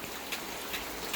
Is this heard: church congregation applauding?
no